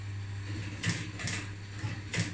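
A domestic sewing machine stitches a straight seam through fabric with foam padding: a steady low motor hum with three short, louder whirring bursts as the needle runs, at close range.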